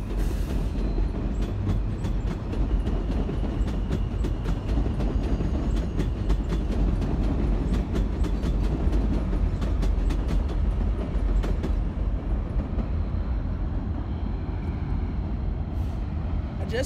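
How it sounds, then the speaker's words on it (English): A New York City subway M train rumbles past nearby, a steady loud roar with rhythmic clattering wheels and faint squeals, no talking over it. "That's the M train, guys. The M train."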